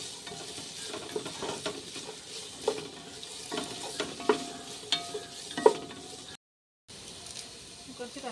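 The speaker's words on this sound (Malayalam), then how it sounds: "സവാളയും പച്ചമുളകും ഇട്ട് കൊടുക്കാവേ നമുക്ക് നല്ലോണക്കൊന്ന് നല്ലോണക്കൊന്ന് വഴറ്റിയെടുക്കാം" Onions and green chilies sautéed in a pan for a Palakkad-style ash gourd chicken curry, with soft steady frying hiss and repeated scraping stirs and clinks of a spoon against the pan, close by, with a brief gap of silence near the end.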